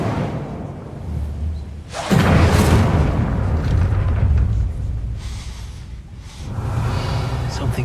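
A fire spell cast in Hogwarts Legacy bursts into a loud whooshing blast partway through, with a fiery roar sustained for a few seconds, then a second swell of burning rumble near the end.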